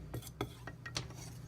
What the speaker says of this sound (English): I'm just kind of going to keep stirring.